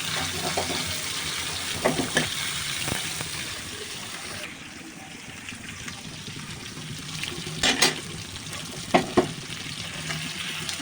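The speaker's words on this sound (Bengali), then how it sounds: "এভাবে আমি কড়াইটাকে ঘুরিয়ে ঘুরিয়ে ভেজে নেব।" Fish fries in hot oil in a wok that is being swirled around. A continuous mid-level sizzle runs throughout, with occasional sharp clinks and scrapes and a few brief watery splashes.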